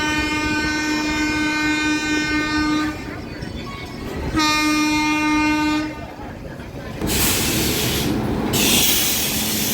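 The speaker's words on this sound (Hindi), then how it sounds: "वो ट्रेन रुक रही है और अपनी ट्रेन निकल रही है।" Lichchavi Express passenger train underway, a steady loud rumble of wheels and carriages with two long sustained horn blasts, then louder rushing noise from a passing train close by.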